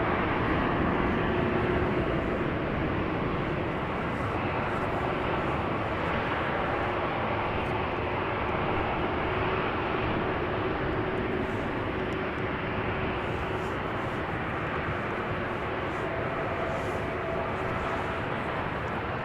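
Steady broadband roar of jet aircraft at Amsterdam Schiphol Airport, a continuous distant engine rumble that holds level for the whole stretch with no voices.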